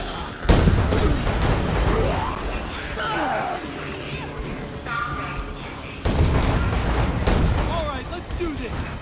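A fireworks factory explodes in the video game Dead Rising 3, with loud booms and crackling blasts that rumble over about nine seconds. Excited voices talk throughout.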